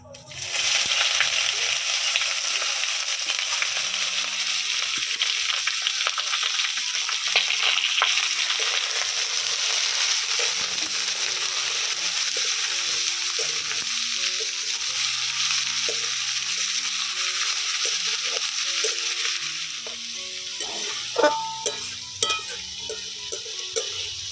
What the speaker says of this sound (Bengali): পেঁয়াজ কুচি হালকা ভেজে নিয়েছি